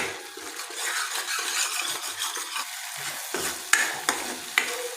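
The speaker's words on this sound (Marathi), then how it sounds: "याला छान परतून घ्यायचं आहे" Spiced paste for masala eggplant sizzling in a pan while a utensil scrapes and stirs it, with several sharp metallic clinks toward the end.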